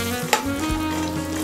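Chana dal, urad dal and cumin roasting in hot oil with a little turmeric make a brief, close, steady sizzle with a single stirring knock, no voices over it.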